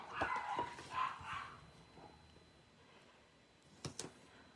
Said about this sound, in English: My dogs are upstairs having a heyday. Can you hear them?